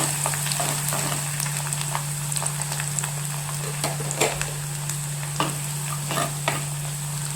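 Finely chopped garlic, green chili and ginger frying in oil in a pan while being stirred for a grape pickle, a continuous light sizzle broken by repeated scraping stirs and clinks of the spoon against the pan, with a steady hum underneath.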